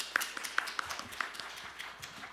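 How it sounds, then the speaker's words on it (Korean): Scattered audience applause welcoming a speaker at an academic medical society conference, loose uneven claps over a soft noisy room, a few claps standing out nearby before thinning toward the end. "뜨거운 박수로 맞이해 주십시오"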